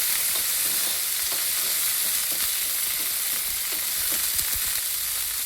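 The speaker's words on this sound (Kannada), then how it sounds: "ಈಗ ಹಸಿಮೆಣ್ಸಿನ್ಕಾಯಿ ಹುರ್ಕೊತಾ ಇದ್ದೀನಿ. ಸ್ವಲ್ಪ ಎಣ್ಣೆ ಹಾಕಿ" Green chillies fry in a little oil with a bright, steady sizzle. Soft scraping stir strokes and light clicks come at an irregular rhythm through the short stretch, close up and with no talk.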